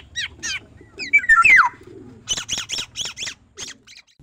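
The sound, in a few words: calls of kilyawan birds (orioles)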